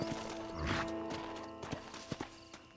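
Horse in the video game Red Dead Redemption, a whinny near the start followed by scattered clip-clop hoof strikes and faint mechanical clicks over a soft game soundtrack, fairly quiet overall.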